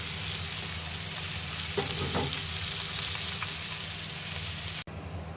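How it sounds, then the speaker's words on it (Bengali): Fish fries in hot oil, giving a loud, dense, steady sizzle that fills the whole stretch up close, with a few faint clinks beneath, before it cuts off abruptly near the end. "মাছ ভাজি করতে দিলাম"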